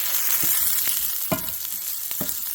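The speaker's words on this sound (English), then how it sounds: "just a nice sear to the outside" Potatoes searing in a hot pan, a continuous close sizzle and crackle with a few soft stirring scrapes breaking through.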